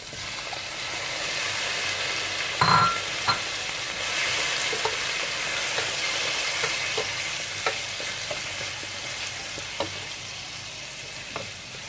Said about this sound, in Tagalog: kapag luto na po yung bawang at sibuyas, ilalagay na po natin yung chicken